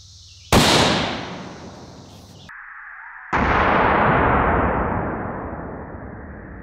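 A .308 rifle shot is fired into sandbags: one sharp, loud blast followed by a long decaying echo that rolls away outdoors, with no talking.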